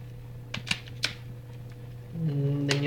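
Battery being popped out of a Nokia N97 Mini phone, a few sharp plastic clicks and snaps close up over a steady low hum, followed by a louder droning tone.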